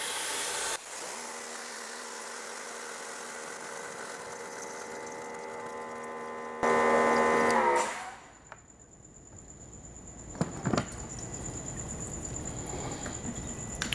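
A Greenworks 2300 psi electric pressure washer with a 40-degree nozzle runs into a bucket, a steady motor and pump drone that jumps briefly louder before cutting off into quiet with a few faint clicks.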